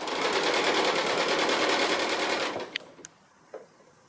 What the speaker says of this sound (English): So I'm just coming up to the last corner on my binding, sewing it down to the front.